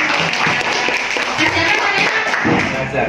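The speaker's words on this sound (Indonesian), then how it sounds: "Ya, tepuk tangan." An audience at a school dissemination meeting applauds, giving a dense, continuous patter of many hands clapping at once. It is fairly loud and sustained for a few seconds, with a voice audible underneath.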